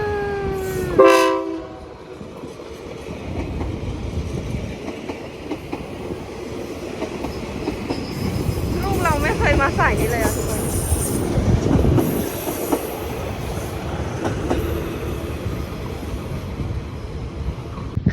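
Express train No. 76 passes through Bang Sue Junction station in Bangkok, opening with a sharp horn blast, then a steady rumble of rolling cars, wheel squeals and clattering rail joints that carry through to the end.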